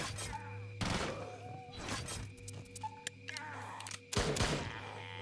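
Gunfire bursts in the tower defense game Deadly Defense: Drop Dead Dual Strike Edition, several loud broadband volleys around one, two and four seconds over a steady game hum, with a few short electronic tones in between.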